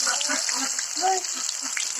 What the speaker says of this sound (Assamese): অলপ সময় ভাজি থাকিব লাগিব।